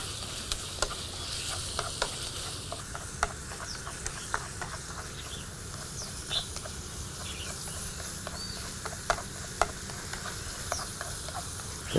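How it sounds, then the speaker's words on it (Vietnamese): Minced pork stir-fries in a pan with fragrant sautéed onion, a soft, even sizzle running throughout with scattered light clicks and scrapes of stirring. "Đây là ta xào lên để cho nó thơm nha các bạn"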